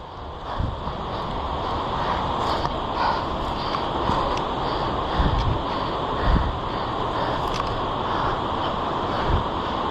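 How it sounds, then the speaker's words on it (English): Steady broadband rush of a waterfall at Chasm Falls in Tasmania, loud and continuous like wind-blown spray, with occasional low thumps and knocks over the roar and no talking. "Quite a nice waterfall, that one."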